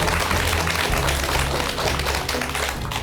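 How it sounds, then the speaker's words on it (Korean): Studio audience applauding a guest on a Korean talk show, a dense, steady wash of many hands clapping close and loud throughout, with no talking over it. "여러분 큰 박수 부탁드립니다."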